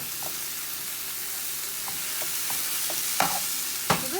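Ground meat for spaghetti bolognese browning in a pan, a soft steady sizzle with a few light scrapes and stirring taps near the end, no talking.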